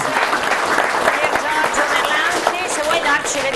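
Crowd applause at a CONI Veneto event on archery and shooting, thanking a guest named Francesco: dense, steady clapping that holds loud and even throughout, with some voices mixed in.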